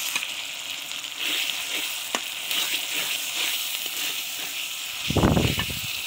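Spices with garlic and ginger paste frying on a clay stove, a steady close sizzle with faint stirring ticks and a louder burst of clatter near the end.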